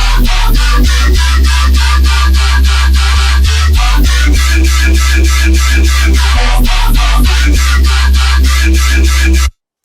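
A loud, heavy synth bass with a formant shift effect pulses in a driving rhythm, its tone shifting and vowel-like, with bright buzzy overtones and a booming low end throughout.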